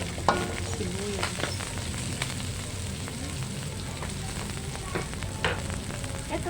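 Garlic and onion sautéing in a pan for chicken adobo produce a steady, fairly quiet sizzle with scattered crackles and light stirring clicks, no speech.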